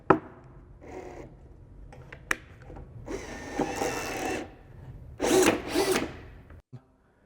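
A Bluedog BWS38 wire stripping machine driven by a power drill whirs in several bursts, the motor spinning up and down with short mechanical clatter and a louder final run before stopping.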